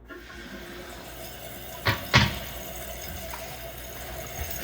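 Water trickles steadily in a canister-style toilet tank leaking past its seal, with two brief louder gurgles as it begins to refill.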